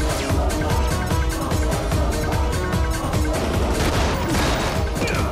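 Dense, continuous movie gunfire from an Indian action film, with rapid automatic bursts and crashing impacts packed together at a loud, unbroken level.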